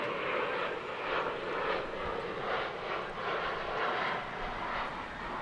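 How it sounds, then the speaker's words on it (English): An American Airlines Boeing 787 Dreamliner taxis at Dallas Fort Worth airport, its jet engines giving a steady, fairly distant broadband roar with slight swells in intensity and no other sounds. "Comes an American Airlines Dreamliner. Headed our way."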